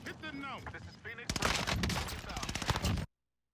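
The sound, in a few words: airstrike explosions in Call of Duty Warzone video game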